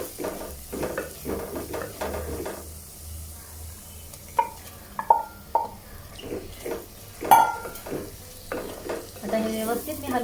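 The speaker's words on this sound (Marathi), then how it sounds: "आता हे व्यवस्थित मी हलवून घेते." Marinated prawns are stirred in a pot, a spoon scraping and clinking against the metal in irregular strokes over a soft sizzle, loud and close, with a few sharp knocks.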